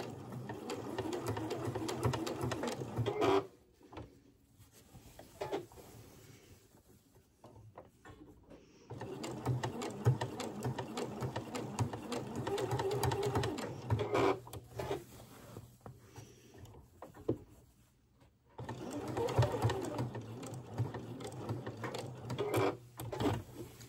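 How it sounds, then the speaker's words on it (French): A sewing machine stitching a rectangle and cross on tote bag handles, running in fast steady bursts separated by short pauses where the fabric is turned, close and clear. "Je vais ensuite venir piquer ce rectangle et cette croix proprement à la machine."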